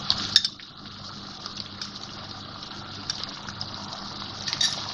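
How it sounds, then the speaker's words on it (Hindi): Yogurt being added to a pot of spiced mutton for frying, a steady wet sizzle and gush with soft clinks of a spoon against the pot, moderately quiet and continuous. "अब ये दही डाल के मैं इसको भूनूंगी।"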